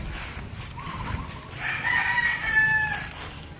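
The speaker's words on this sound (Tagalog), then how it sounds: "ang daming manok dito" A rooster crows outdoors among many chickens on a farm in Pampanga, a drawn-out cock-a-doodle-doo at moderate distance over a constant hiss of background noise, with a fainter call just before it.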